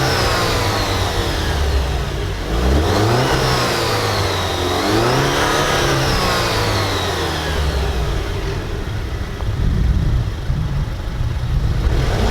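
An Alfa Romeo car engine pulls hard at full throttle, the revs climbing loud and close, dropping briefly at the shift from second to third, then rising again in a long sustained roar.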